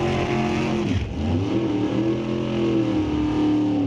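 A Corvette drag car with a 660 engine revving steadily in the staging lanes at a drag strip, a loud, continuous rumbling drone with rising and falling pitch and no talk over it.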